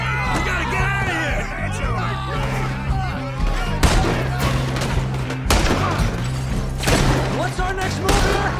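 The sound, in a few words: gunfire in Red Dead Redemption II video game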